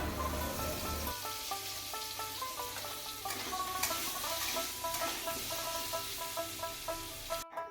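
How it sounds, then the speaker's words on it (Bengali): Potatoes fry in a pan with a soft, fairly faint sizzle, with some light tonal ringing and small clinks partway through; no one speaks. "আলুটা ভাজতে বসিয়ে দিয়েছি"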